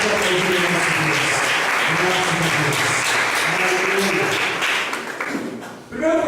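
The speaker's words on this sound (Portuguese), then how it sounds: "Vamos aplaudir o nosso Deus." A church congregation claps loudly and steadily while voices call out beneath, the applause thinning near the end.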